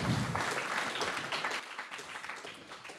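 An audience applauds world champion Johann Zarco at a French motorcycle Grand Prix presentation, a dense wash of clapping that fades gradually over a few seconds.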